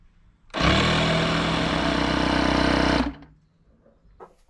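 A small Firso Surf electric SUP pump with a digital dial, rated to 16 PSI, switches on and runs with a loud, steady motor buzz for about two and a half seconds, then cuts off.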